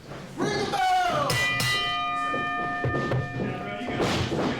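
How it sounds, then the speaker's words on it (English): A wrestling ring bell is struck at a live event, its bright metallic clang ringing out and sustaining under loud crowd noise and voices. "Ring the bell!"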